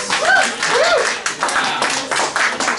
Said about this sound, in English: Everyone give him a clap.